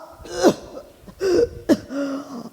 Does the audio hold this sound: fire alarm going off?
no